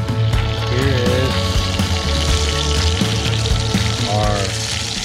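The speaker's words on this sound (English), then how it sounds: "our chicken thighs that need to cook a little longer" Chicken thighs frying in a cast iron skillet, a steady close sizzle and crackle that runs without a break throughout.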